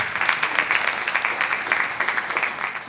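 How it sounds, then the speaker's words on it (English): Steady, dense applause from graduates and guests at a bank training academy graduation ceremony, loud and close, holding evenly for a few seconds. "Give yourselves a round of applause"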